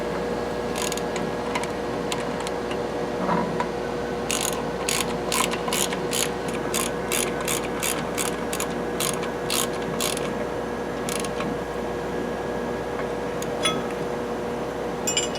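A hand ratchet snugging brake bolts during a brake installation: a steady run of quick, crisp clicking strokes, close and fairly quiet, with a few shorter bursts before and after the main series.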